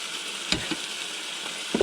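Stir fry sizzles in a pan with a steady, moderately faint hiss and a few soft clinks or stirring taps, no voices.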